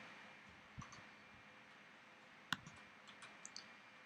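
A computer mouse clicks while someone works in Photoshop: a handful of sharp, sparse clicks over a faint hiss, one louder than the rest, with no speech.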